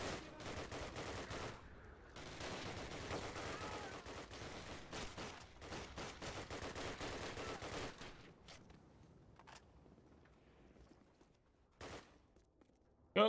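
Sustained rapid gunfire from a Call of Duty: United Offensive battle defending a house at Noville, dense overlapping bursts for several seconds, then thinning to scattered distant shots and a few isolated cracks.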